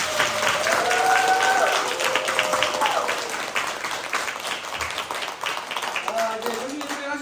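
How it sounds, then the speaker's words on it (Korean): Sustained audience applause from a church congregation at an Advent lecture, dense and steady, easing slightly after a few seconds, with faint voices mixed into the clapping. "어쨌든 제가 이번에 지금 우리 김동윤 율라신을 위해서 큰 박수!"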